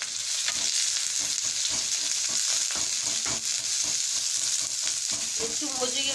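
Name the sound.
chopped onions frying in white oil in a frying pan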